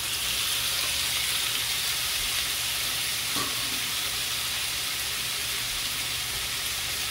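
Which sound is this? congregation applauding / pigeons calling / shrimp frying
shrimp frying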